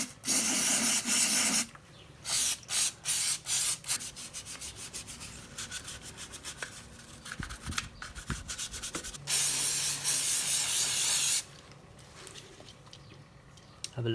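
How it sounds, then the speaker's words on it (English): Brake cleaner solvent sprayed inside a Ford Transit power steering reservoir, loud close hissing blasts at the start and again midway, with scraping and rubbing noises between. "You could use brake cleaner, anything like that really. Any fast drying solvent will be good."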